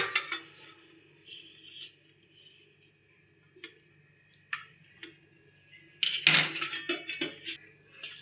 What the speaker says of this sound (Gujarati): મેં પપૈયું એક સરસ લઈ લીધું છે પાકેલું. હવે આપણે વચ્ચેથી કટ કરી લેશું.